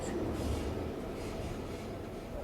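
A subway train rolls into Shibuya station in the Persona 5 video game, a continuous low rumble of wheels and carriages with a faint high squeal, steady and moderately quiet, with no voices.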